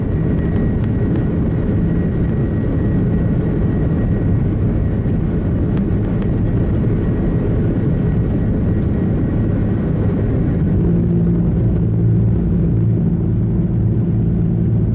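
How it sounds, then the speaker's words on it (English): An Airbus A330 jet roars steadily through its takeoff, a continuous loud broadband engine rumble with no voices. "This Airbus A330 that was taking off"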